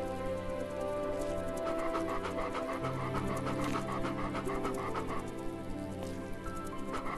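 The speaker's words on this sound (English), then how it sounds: "Do we have this dog?" A dog in the game Bee Simulator pants in quick, rhythmic breaths, close and fairly quiet over a soft musical background, continuing steadily.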